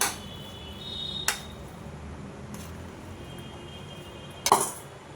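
A steel wok is set down on a stove with a few short metallic clanks. A light clink comes early, then a louder, ringing knock near the end, over a quiet room hum with nothing else.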